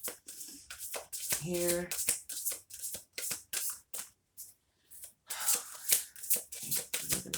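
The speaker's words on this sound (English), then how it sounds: "So we're going to pull some cards" A deck of oracle cards is shuffled in repeated riffling, rustling bursts, close and fairly loud, with short pauses between handfuls, during a Samhain candle reading; a voice speaks briefly now and then.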